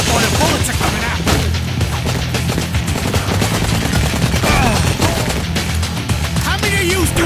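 Rapid automatic gunfire and shots from the Blue Estate video game, sustained and dense across the whole stretch, with booms and a voice buried in the mix.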